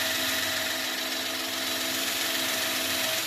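A power drill whines steadily and loudly as it bores angled pocket holes into wood, a continuous high buzzing with no pauses.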